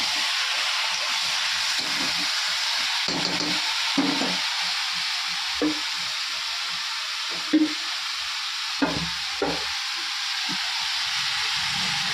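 Steady sizzling of chicken frying with whole spices in a wok, with occasional scrapes and clinks from stirring, close and continuous without talk.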